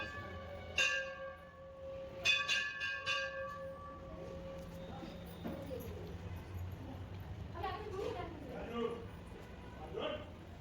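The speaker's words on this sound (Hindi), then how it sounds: "घंटी बजाते हैं" Temple bells rung at an ancient Shiv temple in Garhmukteshwar, several bright metallic strikes early on with ringing decay, amid a busy crowd with people talking and other bells faint in the background.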